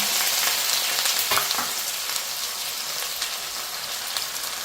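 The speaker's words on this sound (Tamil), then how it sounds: "அன்னாசிப்பூ, ஏலக்காய், 2 கருவா, தேவையான அளவு வெங்காயம் சேர்த்தோம்." Onion frying with star anise, cardamom and cinnamon for a Jaffna-style curry, a steady crackling sizzle with a couple of stirring scrapes near the start.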